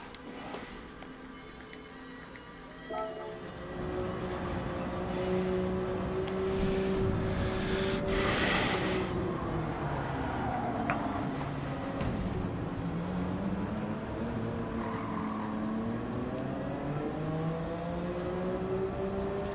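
An old-school Nissan GT-R engine in Gran Turismo 7 starts from a low idle, then revs and pulls through the gears with rising and falling tones, droning steadily and fairly loud throughout.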